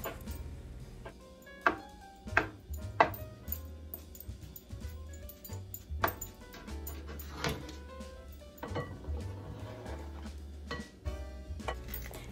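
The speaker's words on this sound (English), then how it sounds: "Chop up your eggs very finely." Boiled eggs are finely chopped with a knife on a board, heard as sparse, irregular sharp taps, some louder and closer together, over a low steady background hum.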